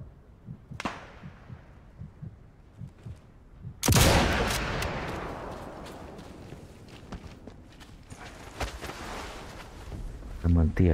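Sniper rifle gunfire in the video game Sniper Elite 5, a sharp crack early on and then one loud, booming shot with a long fading echo, surrounded by quieter in-game footsteps and small sounds, with a voice speaking faintly under it.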